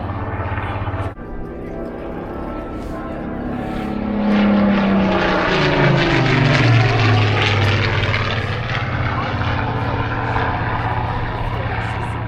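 Spitfire Mark 19 propeller fighter at Eastbourne Airshow 2025, its piston engine roar swelling loudly as it passes close overhead, pitch dropping into a sustained drone, with no talk.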